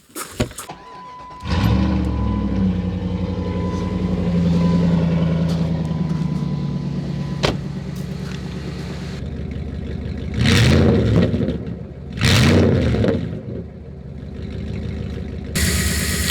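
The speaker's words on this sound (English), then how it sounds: "this Jeep sounds pretty good when you start it up." A Jeep engine cranks and starts, then settles into a steady idle with a low droning rumble, followed by two brief revs that rise and fall before the idle returns.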